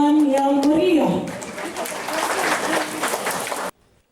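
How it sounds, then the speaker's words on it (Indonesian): Applause breaks out at a kindergarten opening ceremony in West Papua, rising after a voice fades and continuing as a busy crowd clapping before cutting off abruptly. "Mari kita berikan tepuk tangan yang meriah."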